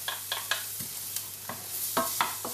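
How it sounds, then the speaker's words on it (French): Onion and chopped garlic sizzle in a drizzle of olive oil in a sauté pan, a bright hiss broken by several sharp scrapes and taps of a spoon stirring at an uneven pace. "dans ma sauteuse, un filet d'huile d'olive, je mets l'oignon. Oui, ça chante."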